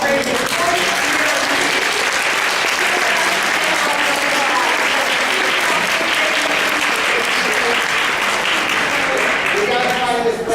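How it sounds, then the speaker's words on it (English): A conference audience at a patient safety event gives a sustained round of applause for a nurse marking his 40th year, loud and dense throughout with scattered cheering voices mixed in. "if you guys want to give Terry one round of applause"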